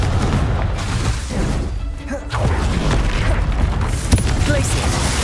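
Confringo fire spell bursts in Hogwarts Legacy, a dense run of rumbling booms and blasts amid ongoing combat noise, loud and continuous with a sharp crack near the end.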